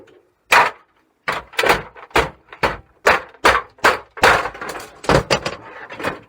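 Parts of a laser printer being scrapped are bashed loose with about ten heavy, irregular knocks and thuds, close and loud, separated by short gaps, with no talking.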